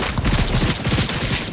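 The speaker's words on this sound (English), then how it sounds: "The TZIJIMURA is a smart SMG that disables homing functionality when you're aiming" A smart SMG fires rapidly in Cyberpunk 2077, a loud, close, unbroken stream of punchy shots lasting under two seconds with no pauses.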